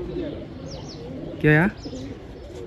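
Pigeons cooing softly in a loft, faint murmuring calls under ambient noise, with one louder short voice interjection in the middle.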